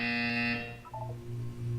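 A buzzer sounds a steady electronic tone for about half a second, then breaks into a couple of short chirps before fading under a low background hum.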